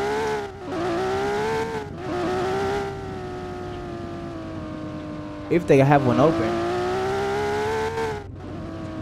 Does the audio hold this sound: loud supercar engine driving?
yes